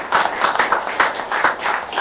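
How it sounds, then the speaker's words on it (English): An audience applauds panelists at a talk on autism and late diagnosis, a short spell of rhythmic, moderately loud clapping from a modest group. "I just want to give a round of applause again for our panelists"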